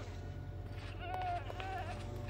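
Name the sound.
goats bleating in the video game Minecraft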